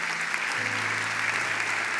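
Congregation applauding at a church service, thick continuous clapping with a low sustained organ or keyboard tone underneath, no speech.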